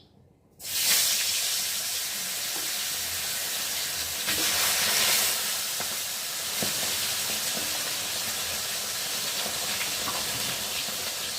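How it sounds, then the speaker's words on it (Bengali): Two whole large fresh fish dropped into hot oil in a kadai, bursting into a loud, steady hiss and sputter that holds evenly throughout, with a few faint crackles. "চলো এখন কড়াতে দিয়ে ভেজে নিই"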